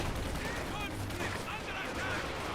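An artillery barrage rolls in during a Company of Heroes 2 match, heard as a constant mix of gunfire and distant blasts underneath a commentator's voice, with occasional whistling rounds.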